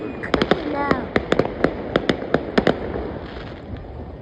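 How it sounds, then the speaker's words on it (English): Fireworks burst over a lake in New Jersey, a quick run of sharp distant pops and crackles in irregular bunches, with people exclaiming faintly between the bangs. "Look at those fireworks."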